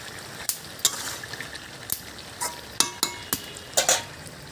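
Meat fries in a pan with ash gourd peel, a low, steady sizzle broken by sharp scraping clatters of stirring several times, close and alone without talk.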